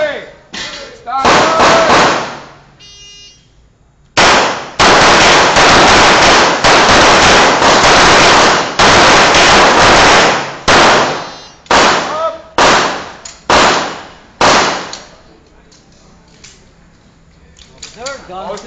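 Gunfire at a customs law enforcement club shoot, a series of loud, close, sharp shots in quick strings with short pauses between, ringing metallic impacts and a voice calling out commands between bursts.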